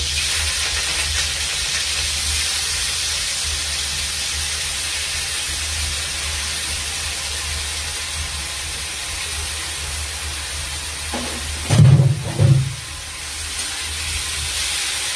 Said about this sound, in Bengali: এটাকে কড়াতে আস্তে আস্তে করে দিয়ে অল্প করে ভেজে নিচ্ছি